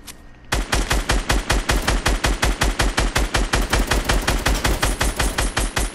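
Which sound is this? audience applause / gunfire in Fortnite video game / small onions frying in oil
gunfire in Fortnite video game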